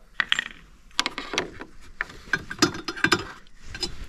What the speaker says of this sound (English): So you just turn it counterclockwise. And then that cover comes off.